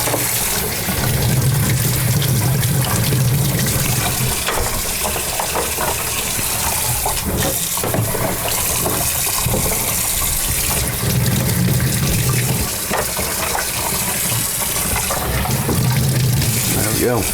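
Water gushes and splashes steadily while items are rinsed during a freshwater aquarium water change, a loud continuous pour that runs the whole time with a voice talking over it now and then.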